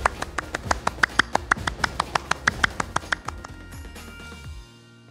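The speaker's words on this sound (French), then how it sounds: "Clément et son talent d'applaudir à une main." A single person clapping with one hand produces a fast, even run of about twenty sharp, crisp claps, close and clear, before stopping and leaving only a faint room tail.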